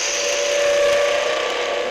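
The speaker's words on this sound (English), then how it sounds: "that squeaky noise is because it's so thin at that end now and it's just vibrating a little bit" A thin-walled ash bowl spinning on a wood lathe gives off a sustained, even squealing tone over a constant whirring hiss, with no break throughout.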